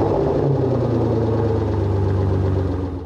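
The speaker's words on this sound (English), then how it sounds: "hit the engine start button right here." An Aston Martin V12 engine idles loudly and close, a steady low throbbing rumble with a smooth pulsing rhythm that eases slightly at the end.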